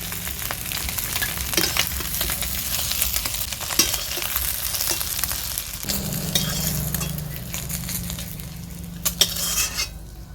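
Eggs fry in oil in a pan with a close, steady sizzle, broken by a spatula scraping and turning them and a few sharp clinks of metal utensils, with no talking.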